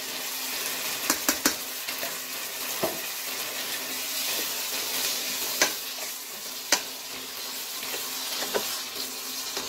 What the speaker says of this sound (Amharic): ነጭ ሽንኩርትና ዝንጅብል እጨምራለሁ።